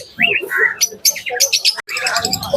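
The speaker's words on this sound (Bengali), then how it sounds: "এখানে এক পেয়ার ককটেল আছে, দেখে নাও।" Cockatiels at the Naihati pet market chirp and whistle in quick close bursts of tweets and squawks, several calls overlapping in a busy, lively stretch with no talk.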